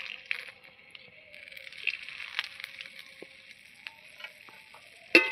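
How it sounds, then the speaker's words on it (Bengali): Dry red chillies and bay leaves crackle and sizzle in hot mustard oil in a wok, a soft steady spatter with small pops and a louder clack at the end. "কড়াইতে পরিমাণ মতো সরষের তেল দিয়ে দুটো শুকনো লঙ্কা, দুটো তেজপাতা দিটা ফোড়নে দিয়ে দিচ্ছে।"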